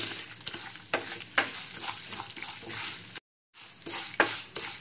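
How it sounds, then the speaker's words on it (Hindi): Dal frying in tempering oil on a low flame for instant suji idli crackles with a continuous close sizzle and rhythmic stirring scrapes, briefly cut off by a moment of silence before resuming. "ये दाल हमारी अच्छी फ्राई हो चुकी है"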